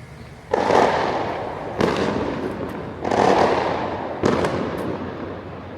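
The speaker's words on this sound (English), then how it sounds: "Hope those are fireworks." Fireworks bursting in a city neighborhood in El Centro, Paraguay, four loud booming reports a second or so apart, each crackling and rumbling before fading into the next.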